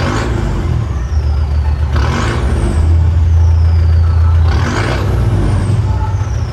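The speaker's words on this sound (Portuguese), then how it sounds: "E o barulho do escape tá bonito, ó." A Land Rover Defender 90 revving, its exhaust giving a loud, steady low rumble that swells in a long blip midway, with no talking over it.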